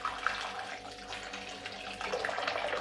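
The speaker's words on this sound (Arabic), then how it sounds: "ونحط عليها ميه دافيه." Warm water poured from a tap over a chicken marinade of thyme, bay leaves, cardamom, lemon peel and crushed lemon, a steady close running splash lasting throughout with no talk.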